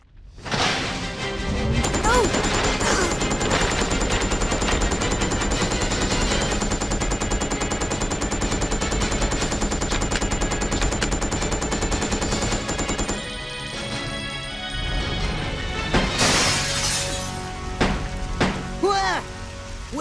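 Dense, loud gunfire rattles almost continuously in the video game Resident Evil Code: Veronica X. Game noise and a few sharper impacts follow near the end.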